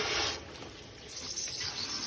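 Water rushing through a manually flushed backwashing sediment filter on a pressurized well water system, a steady close hiss of flow that surges at the start, eases, then builds again.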